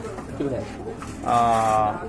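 A pair of blue bar Lakka pigeons coo close by, a soft low murmur rising into a louder, sustained throaty coo in the second half, with voices faintly in the background.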